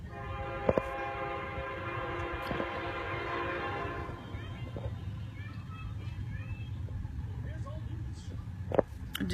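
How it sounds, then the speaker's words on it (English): A train passes close by a home, its horn sounding loud and sustained for several seconds over a continuous rolling rumble that carries on after the horn stops. "Sorry, I live by a train."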